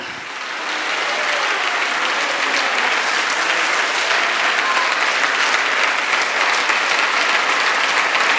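Sustained applause from a church congregation during a pastor's Marathi sermon, rising quickly in the first second and then holding steady and loud as a dense wash of clapping from many people.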